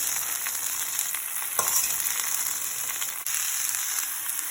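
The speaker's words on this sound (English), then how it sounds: "I've added my cauliflower. I'm gonna give it a stir." Cauliflower frying in a generous amount of hot oil with masala, a steady loud sizzle throughout with a couple of brief scraping stirs, no voices.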